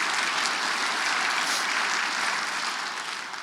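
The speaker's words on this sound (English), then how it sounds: "Yes, that deserves a round of applause alone." Sustained applause from the audience at a county State of the County address, a dense, even roar of many hands that holds steady and then begins to fade slightly near the end.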